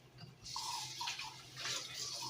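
Water, about two cups, poured into a hot pan where food has been frying in oil, giving a steady close splashing and hissing stream that runs throughout.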